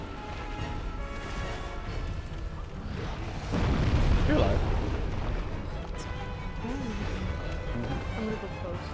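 Explosions in Dark Souls Remastered during a forest fight with Stray Demons: a deep booming blast swells near the middle, over steady game ambience, while a player talks throughout.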